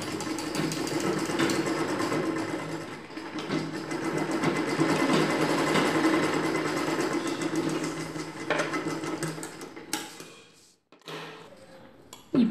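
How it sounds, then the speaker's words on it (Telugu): A sewing machine runs continuously for about ten seconds stitching dress fabric for a zip, a dense rapid mechanical whir with rattling needle strokes, then stops and gives a few short clicks and a brief restart. "ఇప్పుడు ఈ ఎక్స్ట్రా క్లాత్ని లోపలికి ఫోల్డ్ చేసి కుట్టు వేసుకోవాలి."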